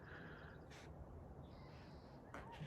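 A bird calls outdoors, a faint tonal cry heard twice at a distance over a steady low background hiss.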